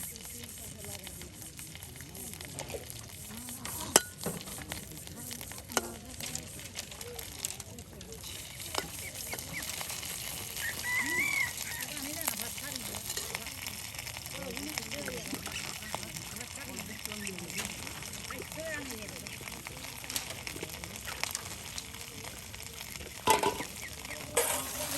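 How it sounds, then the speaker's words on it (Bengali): Chepa shutki (fermented dried fish), dried chilies, garlic and onion frying in oil outdoors by a riverbank, a soft continuous sizzle with stirring scrapes and scattered clinks, while a voice talks over it throughout. "শুকনো মরিচ, তার সাথে রসুন পেঁয়াজ, তার সাথে কিন্তু চেপা শুটকিও ভেজে নেওয়া হলো"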